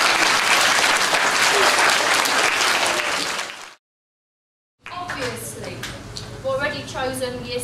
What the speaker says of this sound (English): Then can we have a clap for your five, please?